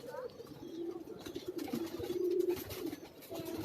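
Pigeons cooing in a rooftop loft in Karachi, soft low throaty coos rolling continuously at close range over a faint hiss of background noise.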